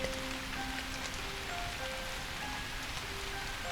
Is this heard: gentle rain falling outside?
yes